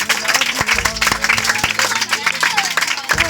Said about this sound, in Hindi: अब सबसे पहले टॉप 5 में जो भी बच्चे आए हैं उसके लिए एक बार जोरदार तालियां हो जाए।